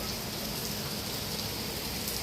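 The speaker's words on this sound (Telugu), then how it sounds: "ఈ వర్షాకాలంలో ఇంత హెవీ రెయిన్ పడడం ఇదే ఫస్ట్ టైం ఈ మధ్య కాలంలో." Heavy monsoon rain falls outside in a dense, unbroken hiss that holds at an even level throughout, with no voices.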